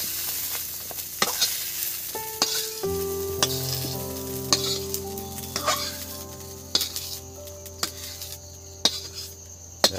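Eggplant frying in a pan for baingan bharta, a steady close sizzle with crackles and pops, and a couple of clinks and stirring scrapes against the pan throughout.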